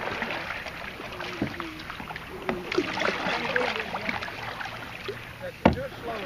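Kayak paddles dip and pull through river water in repeated splashy strokes, with occasional wind buffeting the microphone. Voices are faint in the background, and one sharper splash stands out near the end.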